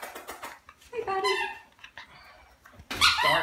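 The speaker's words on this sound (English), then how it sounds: "Barking Rhodes" A Standard Poodle gives a few sharp barks and a whining, whimpering yelp, close by, with some rustling in between.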